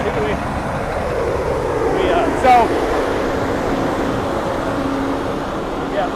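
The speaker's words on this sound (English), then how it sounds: "sorry for the noise, obviously. We got tractors." Tractors work the dirt of a supercross track in a Foxborough stadium in 2022, producing a broad, continuous machinery rumble that fills the space, loud and unbroken.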